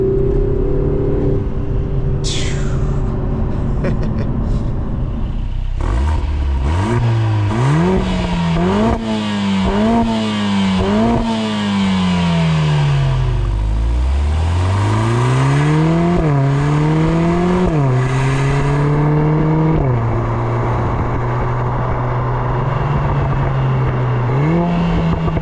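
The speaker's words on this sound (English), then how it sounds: "Fourth gear, just, you know, really spooling it up" A 2024 Lotus Emira with the 2.0T turbo four-cylinder pulls hard in fourth gear, the engine note climbing through repeated surges and gear changes, loud and close from the cabin, with no voices over it.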